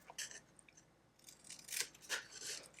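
A few quick, crisp snips of scissors, faint and close, in short bursts separated by brief pauses.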